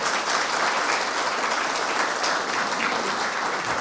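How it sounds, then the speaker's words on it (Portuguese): Audience applause breaks out for the men seated at the table during a patriots' coffee gathering in São Paulo, a dense, steady clapping that holds evenly at moderate loudness without talk. "Gente, uma salva de palmas para esses homens,"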